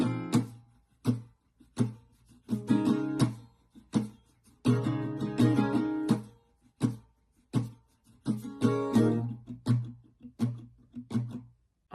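An acoustic guitar strums the second half of verse 2 of a song, mixing full down strums with muted, percussive chops in a steady rhythmic pattern, close and unaccompanied.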